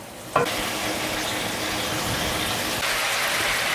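Wine added to a pan with chicken and peppers sizzles hard over high heat, a dense, loud, continuous hiss that flares briefly at the start and holds steady up close.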